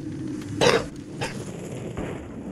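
A single phlegmy cough from a man gaming, a wet burst followed by two smaller throat-clearing rasps, moderately close and fairly quiet, with no talk.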